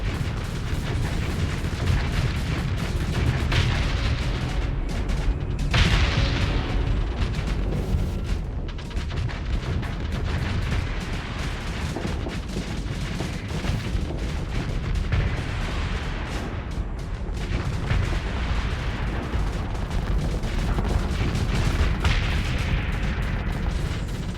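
Ships blowing up in the space combat game Starsector, a dense, continuous barrage of booming blasts and crackling bursts layered over a steady low rumble, loud throughout with no pauses.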